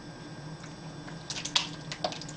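Thick cold process soap batter makes soft, wet squelching gloops as it is poured, quiet and close, several irregular sticky plops.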